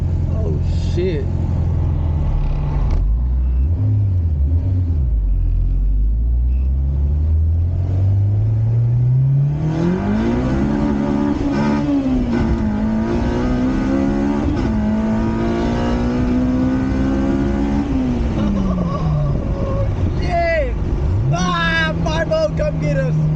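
Car with a K20 engine on a stock base map accelerating hard, the engine note climbing and dropping through revs as the wheels spin, loud and close inside the cabin, with people talking over it.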